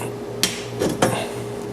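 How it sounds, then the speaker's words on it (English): Tools working stuck screws loose from boat gunwales, where the screws were set with thread-locking compound: three sharp metallic knocks or clanks, one near 0.4 s and a close pair near 0.8–1.0 s, over a steady low hum. "These screws are really kind of hard to get out."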